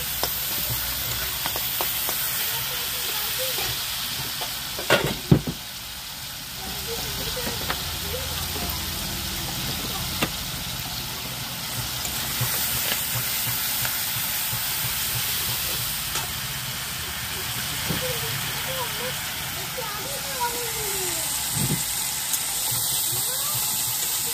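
Green chillies frying in oil with cumin seeds and tomato: a steady broad hiss of sizzling oil runs throughout with occasional pops and clatters, while a voice talks over it.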